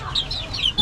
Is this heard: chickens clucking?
yes